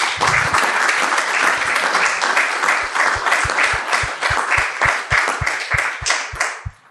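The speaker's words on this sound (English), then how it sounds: "the audience didn't have to ask to applaud you. They did it spontaneously, George." A seated audience at the close of a public talk breaks into spontaneous applause, sustained dense clapping that holds steady for several seconds before thinning out and fading at the end.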